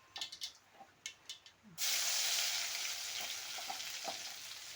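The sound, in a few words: garlic frying in hot oil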